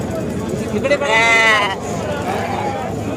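Sheep bleat loudly and close by at a busy goat and sheep market in Sangola, one long wavering call standing out over a steady crowd babble and people talking nearby.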